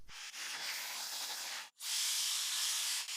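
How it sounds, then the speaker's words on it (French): A Wolfbox cordless electric air duster blows a loud, steady hissing jet of air, cuts out for a moment, then blasts again just as strongly, close up with no talking. "c'est ce fantastique dépoussiéreur sans fil de Wolfbox"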